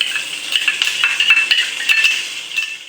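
Onion, tomato and garlic gravy going into a hot pan for green paneer masala, a steady sizzle with a spoon scraping and stirring against the metal, close and fairly loud, with no talking.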